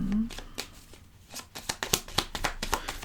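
A deck of tarot cards being shuffled and cut by hand, with a run of sharp, close slaps and riffles that grow busier toward the end, loud and clear, with a brief voice at the start.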